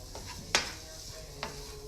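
Frozen taco meat heating in a pan gives a soft sizzle, with two sharp scrapes of a utensil as it is stirred.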